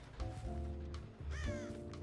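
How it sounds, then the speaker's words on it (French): Crow in the Dead by Daylight horror game caws in two bursts of harsh, close calls, the second following after a short gap, over a constant low game ambience. "un corbeau qui revient."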